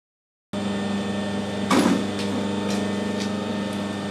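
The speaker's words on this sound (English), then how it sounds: "I've got the lathe set up, run nice and slow" A metal lathe runs slow and steady while cutting a left-hand internal acme thread, a constant mechanical hum with a brief louder scrape partway through and faint periodic ticks, close and alone.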